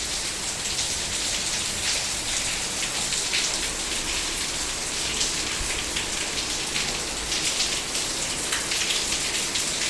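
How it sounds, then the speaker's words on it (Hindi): Heavy rain pours steadily outside a double-story villa in Mohali, a dense, even hiss holding at constant loudness throughout, with no voices. "तो अभी बारिश हो रही है बहुत ज़ोर से।"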